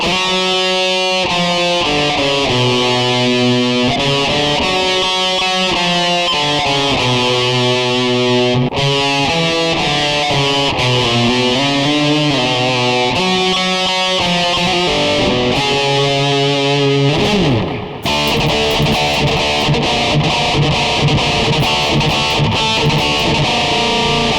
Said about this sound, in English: we've got distortion and delay.